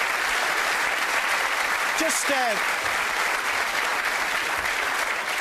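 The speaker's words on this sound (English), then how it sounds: "Give them a round of applause." A television studio audience applauds throughout, steady dense clapping at an even level, while someone briefly speaks over it.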